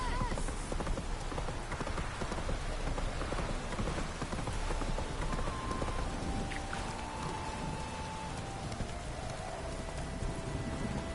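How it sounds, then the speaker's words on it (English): Roach, a horse in The Witcher 3 video game, gallops in steady rhythmic hoofbeats under a continuous rain-like hiss, fairly close and moderately loud throughout. "Whoa there, Roach"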